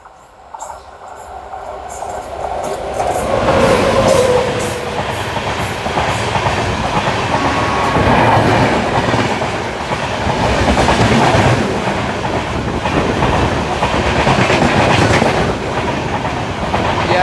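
The Bhagat Ki Kothi–Kacheguda Express passes at a crossing in India with a loud, sustained rumble and rhythmic wheel clatter, heard from a moving train behind the Kolhapur–Nagpur Express.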